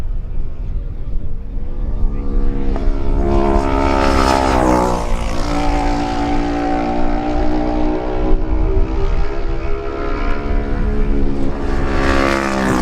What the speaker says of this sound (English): number 16, Stephen Home, arriving on his Kawasaki